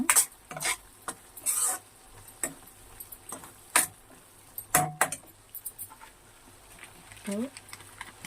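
Tomatoes frying in a pan for tomato egg curry are stirred in scattered, sharp clinks and scrapes of the utensil, with quiet gaps between strokes.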